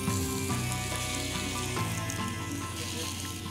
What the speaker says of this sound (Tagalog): Sear na natin yung ating chicken.